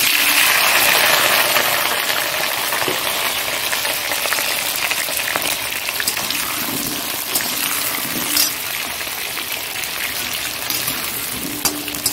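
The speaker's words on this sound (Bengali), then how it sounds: "এবার এই আলুগুলো দিয়ে দিচ্ছি" Cut potatoes fry in a pan of oil with a loud, steady, dense crackling sizzle that fills the whole stretch, with a few faint clinks and no talking.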